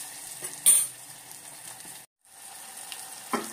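Green chilies cooking slowly in a pan over a low gas flame: a soft, steady sizzle with a few light clinks of a utensil against the pan, fairly quiet.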